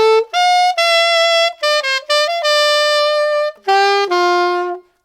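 Solo saxophone plays the closing phrase of a song's solo: a run of clear, sustained notes broken by short gaps, ending on a long held low note, close and loud with no other sound.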